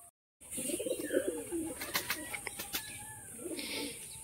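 Pair of Madrasi pigeons, high-quality pigeons in a loft, cooing in soft, repeated low calls close by, with a few brief sharper bird sounds mixed in over a steady background hiss.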